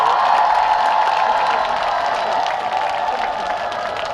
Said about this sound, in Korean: 많은 분들에게 한번 큰 박수 보내주시면 좋을 것 같습니다